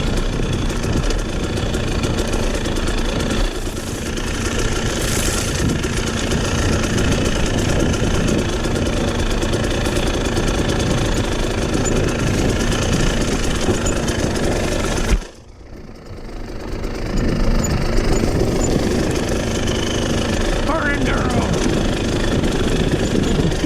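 A Husqvarna dirt bike engine runs at Carnegie SVRA with a loud, steady buzzing drone that dips sharply for a moment before picking back up, while a voice talks over it at times.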